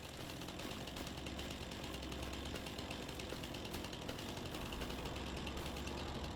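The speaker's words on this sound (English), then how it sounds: "It's just the chainsaw." A chainsaw in Farming Simulator 25 cuts down trees in a dark forest, giving a continuous harsh, buzzing mechanical rattle that holds at a steady level throughout, with no speech over it.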